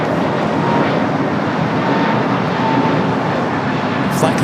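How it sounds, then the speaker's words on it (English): Airliner arriving at Los Angeles International Airport on a flight from Las Vegas, a steady loud roar of jet engines that holds throughout at close range, with no pauses. "Flight coming in from Vegas."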